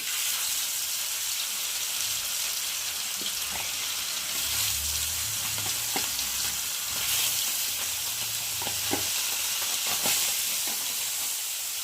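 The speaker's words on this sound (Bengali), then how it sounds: "আর এখন আমি একে একে মাছগুলো দিয়ে ভেজে নেব।" Bhola fish frying on a hot tawa, a steady broadband sizzle and hiss running the whole time, close and fairly loud, with a few faint clinks of the utensil.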